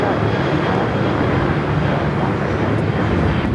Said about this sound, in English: This is Sun Country Airlines 8705 taking off to Columbus on the 737